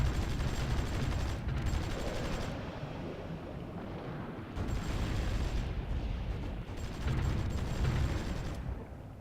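Mortar units firing in the strategy game Supreme Ruler Ultimate, heavy booming volleys arriving in bursts with quieter gaps between, over a steady background of rumble and mechanical noise.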